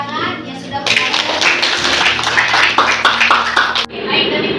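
A classroom of students breaks into loud, sustained applause at the end of a lesson, a dense burst of clapping lasting about three seconds before it cuts off, with voices underneath.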